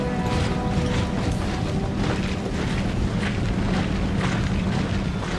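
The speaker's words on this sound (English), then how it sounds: "These gun crews are going to shoot the ground for some reason." Empire Total War battlefield din of artillery cannons firing at a hillside fortification, a dense continuous rumble of booms and crashing impacts blending into steady loud battle noise with no distinct separate shots.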